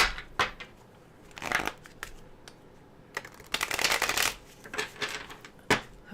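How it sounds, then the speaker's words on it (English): Tarot cards being shuffled by hand, bursts of crisp riffling and flicking in uneven clusters, close and fairly quiet, with short pauses between shuffles and no talking. "So let me shuffle."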